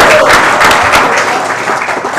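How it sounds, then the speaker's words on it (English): Studio audience at a sports talk show breaking into loud, dense applause, a steady roar of clapping that fades slightly across two seconds. "A round of applause."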